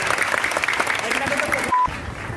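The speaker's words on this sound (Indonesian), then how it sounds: "tepuk tangan pada Juna." A small group claps briefly for a child who won a football shirt in a kids' futsal learning challenge, the light applause mixed with talking and fading out after about two seconds.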